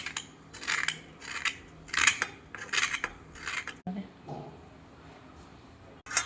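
The insides of pointed gourds (parwal) are scooped out with a utensil in a series of quick, rhythmic metallic scrapes, followed by a quieter pause and a few softer scratches.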